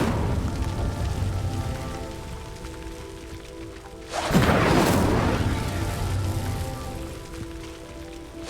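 Incendio fire spell cast in Hogwarts Legacy: a sudden whooshing burst of flame midway through, over a steady hiss of rain-like ambience with faint music.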